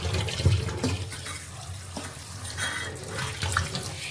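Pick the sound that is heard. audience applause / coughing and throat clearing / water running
water running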